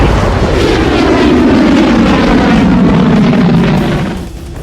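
Fighter jets, Rafale and Tejas, fly over Ambala airbase with a loud, continuous engine roar that holds steady at close range and then fades quickly at the end.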